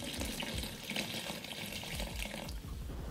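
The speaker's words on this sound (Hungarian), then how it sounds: "És akkor most még teszünk hozzá egy kis vizet." Water pours steadily into a pot of mushroom soup, a continuous faint splashing stream with no talk over it.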